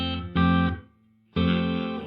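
A guitar through a Donner delay and reverb pedal on its room reverb setting with decay fully down plays two sustained chords, each ringing under half a second before a dry cutoff, with a brief quiet gap between.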